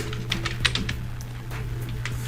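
Quick, light keystrokes on a computer keyboard, scattered clicks in short irregular bursts over a steady low hum, close and fairly quiet.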